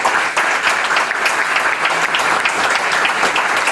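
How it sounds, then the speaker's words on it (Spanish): Dense, steady applause from an audience at a bar association assembly, welcoming the dean to the podium; loud, continuous clapping throughout with no break. "Recibámoslo con fuertes aplausos."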